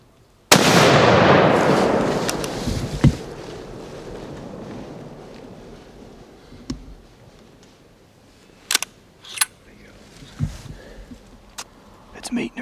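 A single loud rifle shot cracks close by during a deer hunt, its blast rolling away into a long fading echo, followed by faint rustles and a few small knocks.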